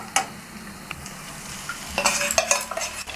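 Onion fries in a pan with mustard and poppy seed paste, Kashmiri chili powder and garlic, sizzling steadily while a utensil stirs and scrapes against the pan in sharp clattering bursts.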